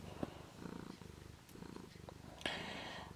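A house cat purring close by, a steady low rhythmic rumble that continues through the whole stretch, with a few brief rustles and a sharper knock near the end.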